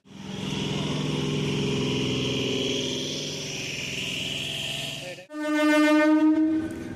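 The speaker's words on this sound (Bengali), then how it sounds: "ছেড়ে বেরিয়ে যাচ্ছে এখন ফুলেশ্বর থেকে আমাদের লোকাল ট্রেন" A local train engine drones steadily while departing Fuleswar station, then a loud, sustained horn blast sounds close by near the end.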